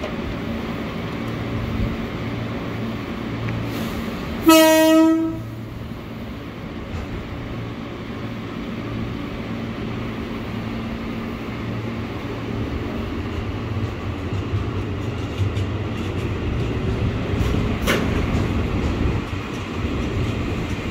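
An electric commuter train rumbles steadily into Manggarai station, Jakarta, with a sharp tonal horn or chime blaring briefly early on and a low mechanical drone throughout.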